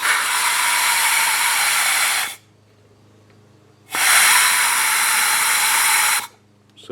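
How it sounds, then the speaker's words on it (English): Compressed air blown through the small holes of a brake master cylinder: two loud, steady hissing blasts of about two seconds each, separated by a short quiet gap, very close. "I'm going to put compressed air in them just to clean them out."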